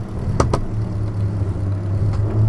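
1920s Grand Prix car racing at Macau in a video game, held in second gear: a steady low engine drone with a couple of sharp clicks near the start, continuous and close, with no talk.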